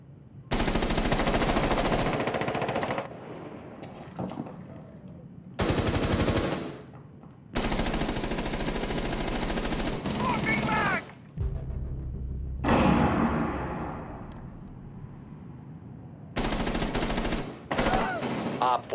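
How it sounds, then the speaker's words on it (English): Mounted LMG in Rainbow Six Siege fires in several long sustained bursts separated by short gaps, loud and close, with fainter game sounds between bursts and no talking. "LMG mounted and loaded."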